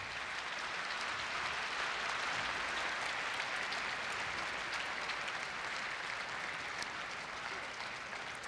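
A big crowd at a Korea University entrance ceremony keeps up loud, unbroken applause, an even roar of many hands clapping together from start to finish with no voices on top.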